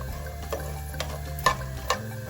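Homemade chips sizzle steadily in hot oil while being stirred, a constant frying hiss broken by four sharp scraping ticks spaced about half a second apart as the utensil works through the pan.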